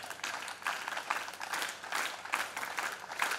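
An audience at a Hindu Yajurveda yajna ceremony gives steady, rhythmic applause that sounds faint and somewhat distant and keeps going throughout, with no clear speech over it.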